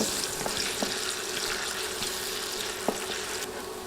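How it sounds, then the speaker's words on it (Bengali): A large sliced onion fries in hot oil in a pan and is stirred, making a continuous sizzle with occasional sharp spoon clinks and scrapes. "এখন নেড়ে নেড়ে পেঁয়াজ নরম করে ভেজে নিব"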